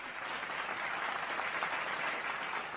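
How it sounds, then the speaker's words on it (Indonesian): Sustained audience applause at a digital innovation talk show and hackathon event in Indonesia, a steady dense wash of many hands clapping with no voices over it. "terima kasih Pak Anderson, boleh berikan tepuk tangannya sekali lagi"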